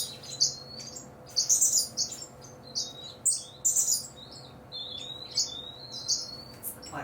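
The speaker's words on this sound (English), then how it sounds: "It's the black cheeks talking to each other." Black-cheeked lovebirds in an aviary call with sharp, high chirps and squawks in quick bursts, trading calls back and forth over a quiet background hum.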